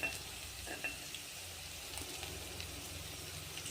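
Asafoetida and fresh green peas dropped into hot oil alongside capsicum for wedding-style pudina rice, giving a soft, steady sizzle with a couple of light utensil knocks.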